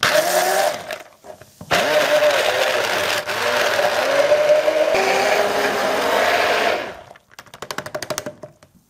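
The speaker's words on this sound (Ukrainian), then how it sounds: "за допомогою звичайного блендера буду зараз взбивати все в" A blender whirs loudly and steadily for several seconds with a churning, grinding tone as it blends walnuts and water, then cuts off, followed by brief stuttering pulses as it restarts.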